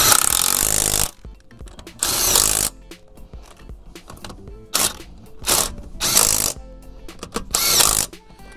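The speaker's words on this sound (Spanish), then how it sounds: "Apretamos las tuerquitas con nuestra pistola." An impact gun tightens the wheel lug nuts on a VW Combi in loud, separate bursts of rattling hammering, about five of them with quieter gaps between, close up and with no talking.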